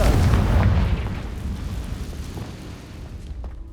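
The Depulso spell effect in the Hogwarts Legacy video game: a deep, rumbling booming burst that swells at the start and slowly fades over a few seconds, heavy in the low end and heard alone.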